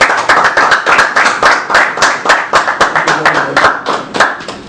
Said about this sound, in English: I think the Honorable Mr. Diaspora will get a round of applause.